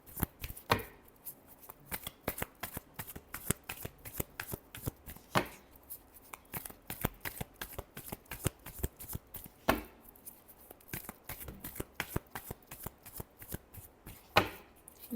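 Tarot cards being shuffled by hand, a dense run of rapid crisp riffling flicks with a few sharper snaps, close and steady for about fifteen seconds with no talking.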